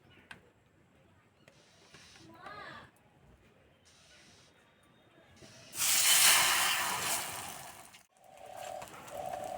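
Egg-coated roti rolls frying in a pan: a few seconds of quiet kitchen noise with faint chirps, then a loud, close hiss of sizzling oil that swells and fades over about two seconds.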